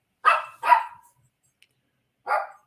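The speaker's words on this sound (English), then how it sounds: "Actually, he's barking at the cat." A dog barks at a cat three times close by, two quick barks in a row, a pause, then a single bark, with silence between and no talk.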